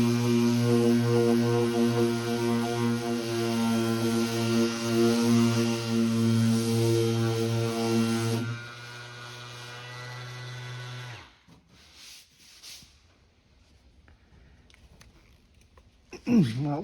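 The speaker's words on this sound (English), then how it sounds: "these kind of areas is where it can get really tricky using a mechanical sander" A mechanical sander runs steadily on cured resin, giving a loud, continuous buzzing whine with a strong low hum. It cuts off partway through, leaving quiet handling noise and a brief burst near the end.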